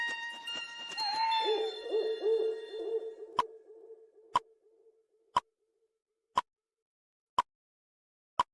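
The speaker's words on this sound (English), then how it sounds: "The owl in person, I love not our owl. not just a video of it" An owl hoots in a few low calls early on, then steady clock-like ticks follow at about one per second as the sound fades to quiet.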